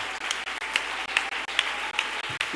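A church congregation claps in a steady rhythm to acclaim the Holy Spirit, with sharp, evenly spaced beats of about two per second that sound moderately distant.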